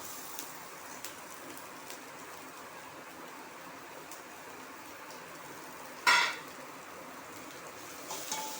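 A steady, faint hiss and crackle of chopped onions sizzling in a pan, with one brief metallic clink partway through.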